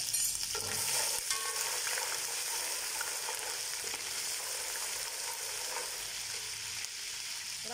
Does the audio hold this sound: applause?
no